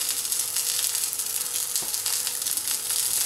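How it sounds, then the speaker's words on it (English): Plant-based sausages frying in a pan give off a constant close sizzle and crackle, loud and even throughout with no voices. "Fry your sausages for about 10 minutes, turning frequently until a golden brown."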